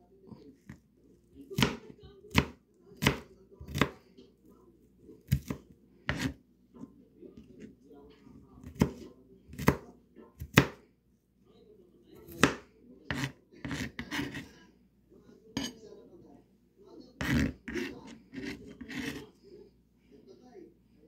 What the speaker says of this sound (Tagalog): Ating gayatin ang bawang ng maliliit.